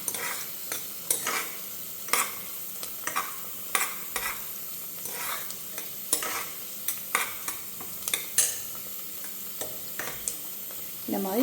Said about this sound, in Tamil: ஆனியன் கொஞ்சம் நல்லா வதங்கட்டும்.